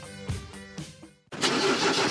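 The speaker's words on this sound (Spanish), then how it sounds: "¿Y arranca o no arranca?" A diesel car engine cranks with several rhythmic starter turns, goes briefly silent, then catches and roars into a loud, steady idle close by.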